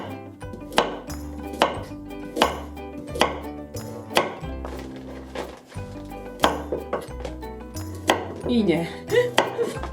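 A knife chops carrots into rough chunks on a cutting board, landing in a steady run of solid, close thuds with clinks from the blade and board; one brief spoken remark comes near the start.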